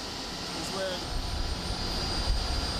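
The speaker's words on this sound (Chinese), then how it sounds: "现在你听到的是上面的摩打声" A motor running atop a geothermal production well, roughly 2000 feet deep, at a 46-year-old geothermal power plant in Nevada, a steady close mechanical drone with a constant high whine throughout.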